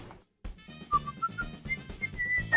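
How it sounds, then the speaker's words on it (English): Someone whistling a short melodic tune of rising and sustained notes under the commentary of an RC car racing stream, clear and close, after a brief silence. "That whistling does not help."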